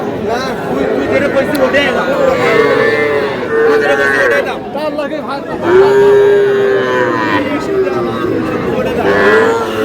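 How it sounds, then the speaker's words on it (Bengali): Young bull calves moo repeatedly and loudly at the Aftabganj cattle market, their long, low calls overlapping the bargaining voices and crowd chatter close by. "এটা ষাঁড় বাচ্চা"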